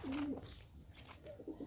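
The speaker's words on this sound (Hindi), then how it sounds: "जो कबूतर पकड़ा है बहुत ही प्यारा कबूतर है।" A pigeon coos softly at close range, giving a drawn-out low call followed by a few shorter coos against a quiet background.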